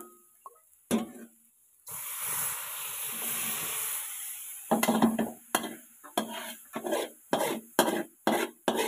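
Water is poured into a hot pan of eggs cooking for kaeng om, bursting into a loud, close hiss that fades, followed by a series of sharp scraping and stirring knocks against the pan.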